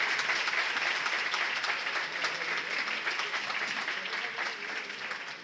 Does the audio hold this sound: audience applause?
yes